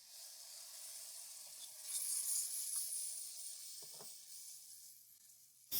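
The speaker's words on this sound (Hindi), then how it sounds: "3 अदद हमने टमाटर लिए हैं जिनका मैंने ये फाइन पेस्ट बना लिया है। ये ऐड करेंगे।" Fine tomato paste hitting well-fried masala for a smoky kebab karahi gravy, giving a soft steady sizzle with a brief louder clatter near the end.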